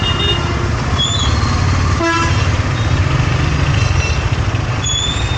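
Busy road traffic with a steady engine rumble and several vehicle horns tooting and honking throughout, on a route between Nagapattinam and Velankanni.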